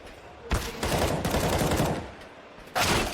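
Bursts of rapid gunfire in a Counter-Strike esports match on the Vertigo map. The shots come as dense, fairly loud clusters with brief gaps between them, and no clear voices are heard.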